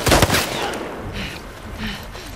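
Gunfire in The Last of Us Part II video game: a burst of sharp, loud shots at the start, then rumbling reverberating tails and a couple of fainter distant reports.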